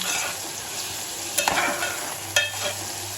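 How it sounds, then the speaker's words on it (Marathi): Onions fry in a pan, turning reddish for a garlic mutton dish, with a steady close sizzle broken by a couple of sharp stirring scrapes; no one speaks. "कांदा असा बऱ्यापैकी आपला मीडियम लाल झालेला आहे"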